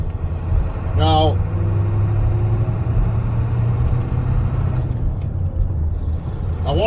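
A Ford F250 pickup with the 7.3 Powerstroke diesel drives along with a steady, loud low rumble throughout, the engine note holding roughly constant, with a brief squeal-like whine near the start and a voice talking over it.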